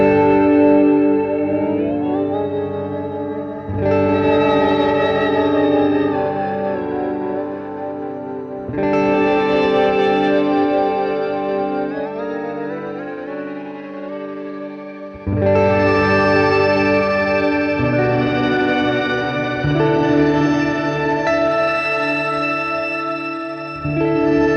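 A sustained, shimmering guitar tone from an octave reverb pedal, drenched in reverb with a bright octave-up layer, swelling in several long washes with brief dips between.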